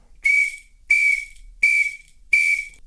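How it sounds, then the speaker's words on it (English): A samba band whistle blown four times as a signal, four loud shrill blasts of roughly half a second each, evenly spaced and heard alone with no talk. "the signal could be as simple as just 4 blows on the whistle"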